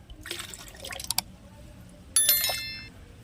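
Water is scooped up with a container and poured into a guppy fish tank, in two bursts of splashing and trickling with a quiet pause between.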